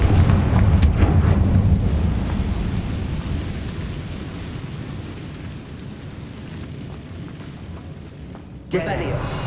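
A Confringo fire spell is cast in the Hogwarts Legacy video game, a loud rumbling explosive blast that slowly decays into a long roaring tail before a sharp new burst near the end.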